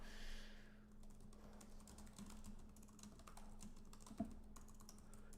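Someone types on a computer keyboard while testing an online racing game, giving quiet, scattered keystrokes over a low steady hum, with one sharper click near the end.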